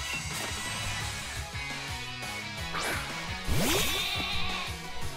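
A sheep Pokémon in the Switch game Pokémon Sword lets out bleats amid game music and battle sound effects, rising warbling cries near the end standing out over the electronic tones.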